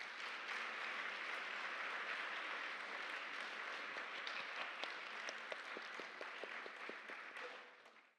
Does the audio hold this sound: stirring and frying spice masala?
no